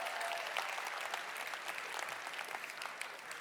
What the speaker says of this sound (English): Please give another round of applause for Reg and Andreas